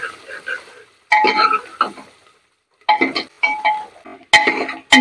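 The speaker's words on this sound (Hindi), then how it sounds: "हम प्याज ब्राउन होने तक बढ़िया ऐसे चलाते रहेंगे घुमा घुमा के" Onions frying in a pan, stirred with a ladle while browning for a dhaba-style lauki chana masala: bursts of scraping and clinking in short, uneven strokes with quiet gaps between, close and fairly loud.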